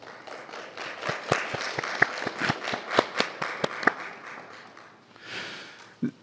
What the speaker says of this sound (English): So let us express our thanks by clapping hands for two excellent